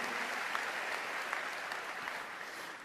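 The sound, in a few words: congregation applause in church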